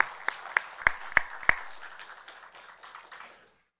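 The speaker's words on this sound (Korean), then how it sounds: "여기까지 인도하신 하나님 앞에 감사하며 영광의 박수를 올려드리겠습니다" Congregation applauding in a church during a Sunday worship service, a few sharp individual claps at first, then a brief, fairly soft burst of applause that fades out after about three seconds.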